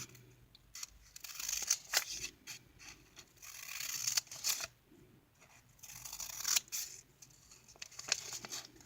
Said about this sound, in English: So you take your scissor and just cut up to the line, like so.